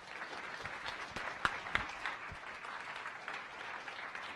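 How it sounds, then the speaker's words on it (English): Audience applause for speakers at a science cafe talk, a steady patter of clapping from a modest crowd heard at moderate distance, with a few sharper nearby claps. "Let's give our speakers a round of applause."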